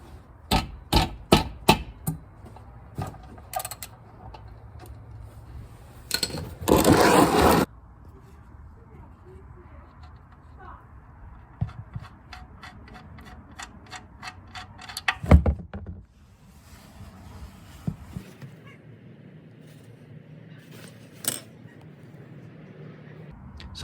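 A ratchet wrench backs out the small oil pan cover bolts on a 2019 Jeep Cherokee, giving quick runs of sharp clicks at the start, then scattered metallic taps and clunks against a quiet garage background.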